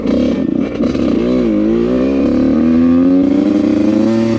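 A Yamaha YZ85 two-stroke dirt bike revs loud and close, its engine note rising and wavering before climbing steadily as it pulls away, the whine holding strong to the end.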